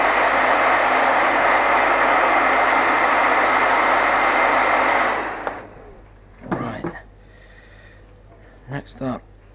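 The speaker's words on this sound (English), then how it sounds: "Let's just dry that off." A hair dryer roars loudly and steadily for about five seconds while drying freshly painted miniature figures, then switches off. A few brief handling noises and a voice follow in the quiet afterwards.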